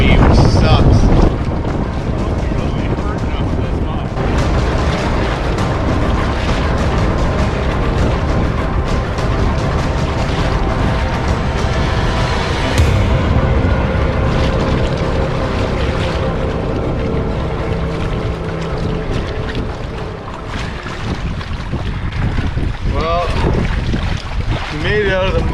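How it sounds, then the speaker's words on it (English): Strong, steady wind roars and buffets the microphone while a canoe is paddled across a large northern Manitoba lake, the noise loud and continuous throughout, with water sounds beneath and no clear talk. "Now we're kind of being broadsided and the wind's blowing us into shore"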